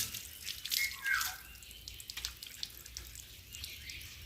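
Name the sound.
water running while rinsing shampoo off a dog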